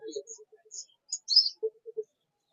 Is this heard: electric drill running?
no